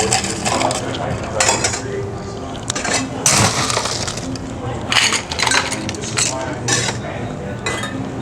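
Ice rattles and clinks against a glass as a cocktail is stirred, with busy jangling strokes throughout and a voice now and then.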